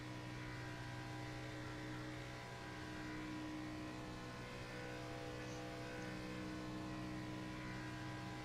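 Race car engine in a racing video game on an out lap at Talladega, a steady sustained drone with layered harmonics holding near-constant pitch as the car runs up to speed, loud and continuous with no talk.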